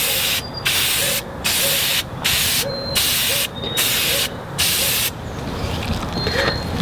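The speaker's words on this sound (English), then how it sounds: "I'm just going to spray it from here." Loud hissing bursts of spray paint, about six sprays in a steady rhythm with short pauses between, close to the microphone.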